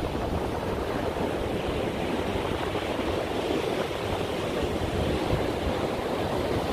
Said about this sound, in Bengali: এই যে ঢেউটা আসতেছে